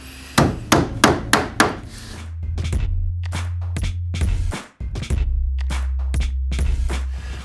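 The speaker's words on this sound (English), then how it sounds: "bash it with a hammer and get it over the previous tongue here" A hammer whacks a curved wooden tongue-and-groove board into place in a tiny house loft, with a run of five sharp knocks followed by more scattered blows over a low steady hum.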